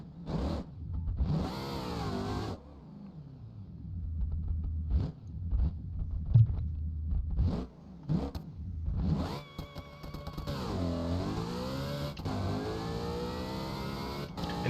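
A preset drag car in a racing video game revs its engine during a run, with sharp bursts and gear-shift dips, then a long climbing wail, loud and close with no voices.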